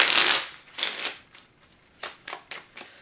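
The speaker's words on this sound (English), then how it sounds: "Let's do one more shuffle." A deck of cards is shuffled: a long riffle burst, then a second riffle, followed by several short taps and flicks as the cards are squared up, close by with no talking.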